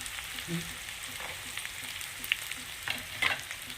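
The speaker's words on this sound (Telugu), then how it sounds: "అది కాదు ఉల్లిపాయలు వేసేస్తాను ఉల్లిపాయలు వేస్తాను" Onions and green chillies fry quietly in a pan, a faint, soft sizzle with a few light stirring clicks and scrapes near the end.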